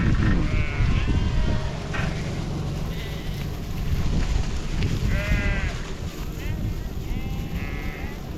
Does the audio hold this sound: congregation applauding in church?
no